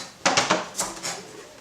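A knife chops a peeled, trimmed large carrot on a board: four or five close, sharp knocks in quick succession, then a softer tap, with no talking.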